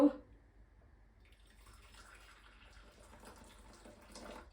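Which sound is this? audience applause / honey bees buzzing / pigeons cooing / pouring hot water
pouring hot water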